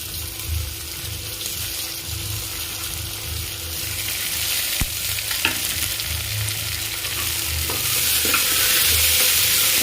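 Tomatoes and onions fry in a pan with a dense, continuous sizzle and hiss. Stirring scrapes come and go over it, close, and the sizzle grows louder toward the end.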